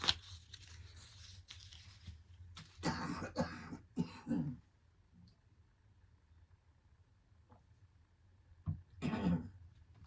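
Several harsh coughs and throat-clearing bursts come in a cluster close to the microphone, then a pause before one more burst near the end.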